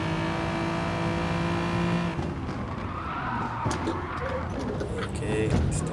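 A Hyundai Genesis Gr.4 race car in a racing game drones with a steady engine note that drops and shifts as it brakes into corners, with some tyre noise, while a person talks over it.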